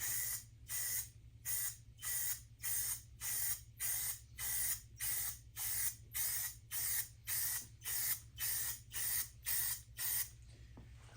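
Close, even hiss of spray paint applied in a light coat to a motorcycle tank, around sixteen quick rhythmic bursts in a row, with a constant low hum underneath and no talking.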